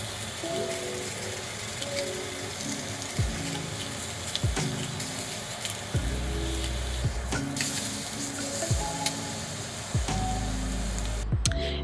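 A single piece of chicken sizzles steadily on a cast iron grill pan, a continuous frying hiss with occasional sharper crackles and pops, close and moderately loud with no voices.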